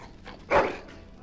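A dog in the video game Dragon Age Origins gives a single short, sharp bark, standing out over quiet background ambience.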